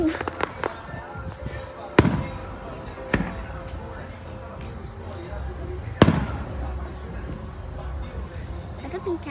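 A pink catfish firework bursting outdoors: several sharp loud bangs with crackling pops between them, heard amid people talking and crowd chatter nearby.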